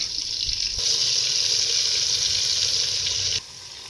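Fish frying in hot oil gives a loud, steady sizzle that jumps up sharply and then drops back near the end, with no voices over it.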